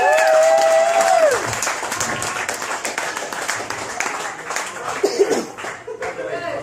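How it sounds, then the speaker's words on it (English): Comedy club audience at The Rose and Thistle in Brantford applauds a comedian, with steady, fairly loud clapping and some chuckles while a host's voice talks over it, before the applause fades. "Let's give this man a round of applause."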